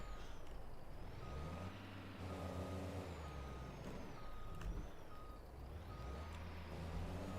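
A big truck reversing in the farming game Farming Simulator 22, steady evenly spaced reversing beeps over a loud, close, droning engine rumble with a few air-brake hisses.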